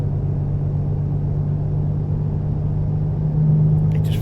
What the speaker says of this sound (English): I can still hear the truck moving.